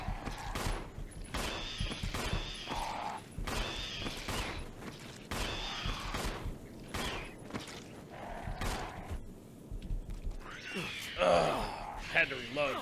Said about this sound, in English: Had to reload before I could shoot them.